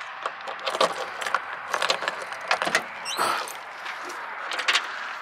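Car keys jangling and clinking near the trunk of a clean 1993 Buick LeSabre Custom, a close, busy rattle of metal taps lasting several seconds with no talking.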